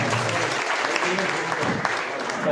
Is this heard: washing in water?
no